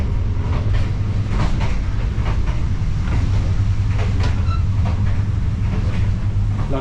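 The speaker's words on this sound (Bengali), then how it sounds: "এই হচ্ছে ট্রেন" Onboard a passenger train travelling from Amboseli toward Mombasa in Kenya, a constant loud rumble of wheels and carriage runs throughout with faint rhythmic clatter on top and no talking.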